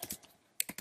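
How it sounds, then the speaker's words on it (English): Quick keystrokes on a computer keyboard while entering a pet owner's details into an animal admission system, a few close clicks in two short bursts separated by a brief pause. "If I begin by typing in"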